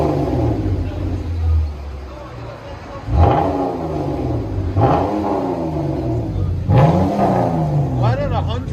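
A Chrysler 200 with a 3.6L V6 and straight pipe exhaust idles with a loud, deep rumble close by and then revs sharply three times, each rev rising and falling, while people talk over it.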